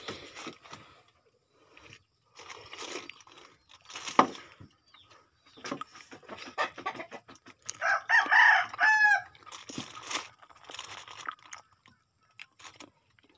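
Chickens on a Philippine farm, clucking and a rooster crowing in a bright burst near the middle, with scattered bird calls and rustling around it, fairly close and loud against a quiet background.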